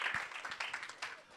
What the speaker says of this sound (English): Give David a round of applause for bringing all this together